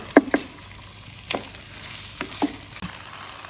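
Rice frying in a nonstick pan with fried onions and spices for pulao, a soft steady sizzle broken by occasional scraping stirs and clinks of a utensil, close up with no talking.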